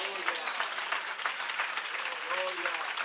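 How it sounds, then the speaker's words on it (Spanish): Congregation applauding in a church service, a dense, steady wash of clapping filling the space, with scattered voices calling out beneath it. "Su mejor aplauso a Dios."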